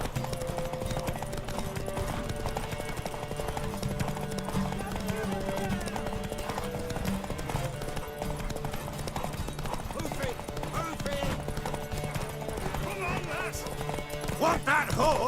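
Horse hooves clip-clopping in the fantasy video game The Witcher 3: Wild Hunt, a steady rhythmic clatter under game music, with a whinny and voices talking over it.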